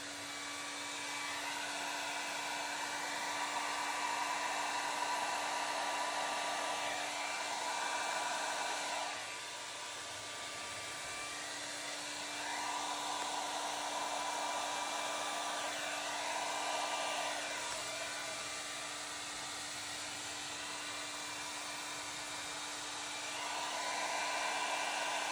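Hair dryer blowing across acrylic paint in a Dutch pour, a loud steady whirring hum running close the whole time with slight dips where the airflow shifts, and no talk.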